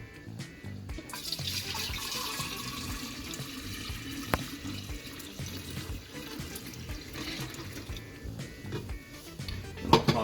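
Brewed tea is poured into a container for kombucha, a steady trickling splash of liquid running for several seconds at close range, ending with a few small knocks.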